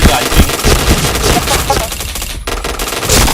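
Rapid loud bursts of automatic gunfire in the shooter game Point Blank, sharp repeated shots with a brief gap near the end before firing resumes, faint talk underneath.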